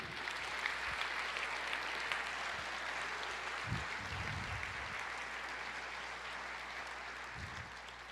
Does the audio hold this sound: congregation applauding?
yes